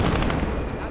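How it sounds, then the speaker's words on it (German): Mortar firing in the WWII strategy game Gates of Hell: Liberation, a dense burst of loud booming gunfire and explosive thumps filling the whole moment, with a faint voice underneath. "Hau rein, mein schöner Mörser!"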